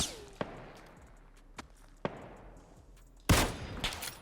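Several sharp gunshots fire sporadically in PUBG, a few isolated cracks followed by a louder burst near the end.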